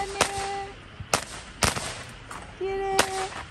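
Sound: fireworks going off at a campsite

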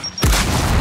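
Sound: grenade explosion in Gears of War video game

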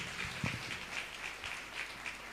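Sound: congregation applause

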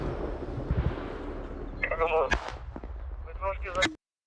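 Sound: gunfire and artillery during an assault near Bakhmut

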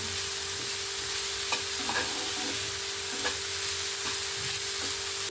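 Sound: vegetables frying in a pan

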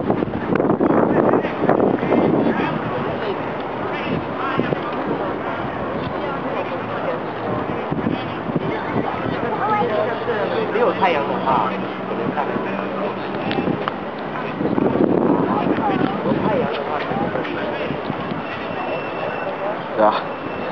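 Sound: wind blowing near the Tower of London

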